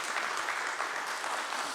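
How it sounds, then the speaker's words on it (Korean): A church congregation applauds its choir, steady dense clapping filling the space evenly without a break, at a moderate distance and fairly quiet. "우리 크게 박수하도록 하겠습니다"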